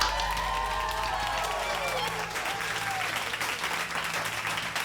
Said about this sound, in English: I want to give you all a big round of applause for getting here